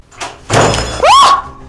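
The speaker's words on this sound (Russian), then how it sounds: "Захлопнулась дверь." A door slams shut inside a house with a heavy nearby thud, set between a couple of softer knocks and followed by a short creak-like squeal.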